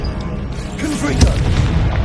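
A single heavy blast from the Confringo blasting spell in Hogwarts Legacy booms about midway through, set against a steady low rumble with some voice in the background.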